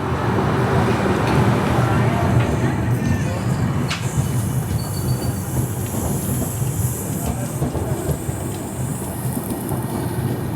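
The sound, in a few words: moving train, Sachkhand SF Express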